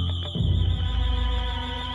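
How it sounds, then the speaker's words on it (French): A shrill house burglar alarm sounds steadily and piercingly, a constant high electronic tone with a warbling upper note, while low thumping and rumbling movement passes underneath nearby. "L'alarme retentit, stridente, assourdissante."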